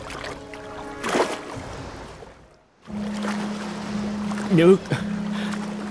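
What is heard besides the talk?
stormy sea and boat in a cartoon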